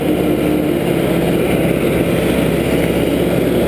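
A Farmall tractor with a foot throttle runs at a steady idle-to-working speed, its engine droning loud and close without a break and with no voices.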